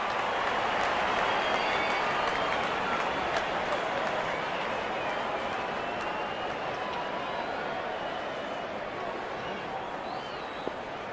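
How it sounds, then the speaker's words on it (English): A stadium crowd in the cricket video game Real Cricket 22, during an India versus South Africa T20 match, gives off a dense, steady roar of cheering and chatter that holds at an even level throughout. "The crowd is enjoying every bit of this action."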